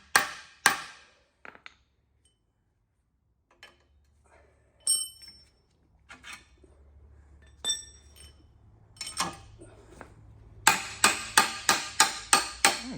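A hammer drives snug bushings into the front suspension of a 1956 Ford Thunderbird in a tool shed: scattered sharp, ringing metallic strikes with pauses, then a rapid run of about six blows at the end.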